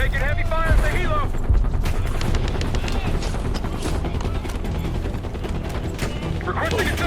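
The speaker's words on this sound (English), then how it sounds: "We're taking heavy fire at the helo." Heavy automatic gunfire and explosions rattle continuously in a Call of Duty: Black Ops 6 firefight around a downed helicopter, with loud bursts layered densely throughout.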